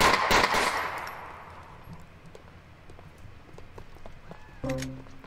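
Gunfire in GTA IV opens with a quick loud burst of shots, then gives way to quieter scattered clatter and a low engine hum toward the end, with no talking.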